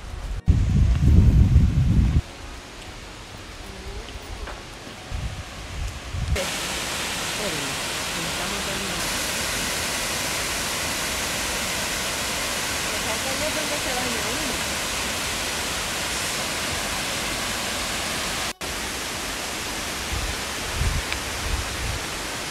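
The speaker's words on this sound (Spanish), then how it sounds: "Ahí hay otra cascada" A steady, loud rush of falling water roars continuously, briefly preceded by a low rumbling thump at the start.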